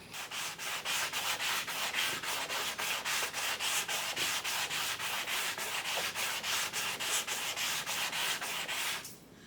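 A wooden guitar fretboard is sanded by hand with steady back-and-forth strokes, a dense rhythmic scratch repeating about three times a second, loud and close with no voices, stopping just before the end.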